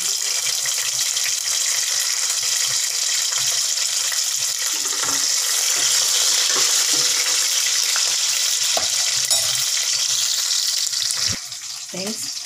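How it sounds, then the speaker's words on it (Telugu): Onions, green chilies, cinnamon, cloves and curry leaves frying in oil for chicken curry, a loud, dense, unbroken sizzle up close with a few scattered clicks of stirring, easing slightly near the end. "ముందుగా ఆయిల్లో ఉల్లిపాయలు, పచ్చిమిర్చి, చెక్క, లవంగాలు, కరివేపాకు వేసి బాగా వేగనివ్వాలి."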